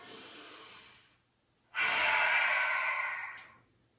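Breathing during a ten-minute leg workout: a soft exhale fades out, then after a short pause a loud, long breath rushes in close to the microphone and tapers off.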